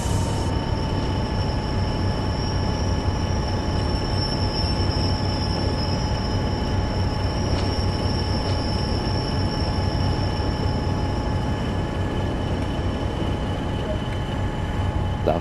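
A Class 40 locomotive brakes on the Northern Trans Pennine route in Train Sim World, a steady rumble of wheels under thin sustained squealing tones, continuous and fairly loud for the whole stretch.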